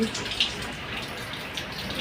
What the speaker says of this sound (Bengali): দেখো আমাদের এখানে বৃষ্টি পড়তে আসছে, এখন বাজে সকাল প্রায় 7টা। অনেক বৃষ্টি